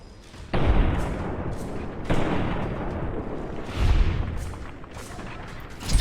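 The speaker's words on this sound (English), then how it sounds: "now I'm shooting everybody in the face" Heavy gunfire in Fallout: New Vegas: a few loud, booming shots spaced a second or two apart, each trailing into a long rumbling decay that overlaps the next.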